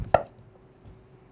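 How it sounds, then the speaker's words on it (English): One knife chop through a potato on a board for German potato salad, a single crisp knock followed by near silence. "I wanna finish cutting my potatoes"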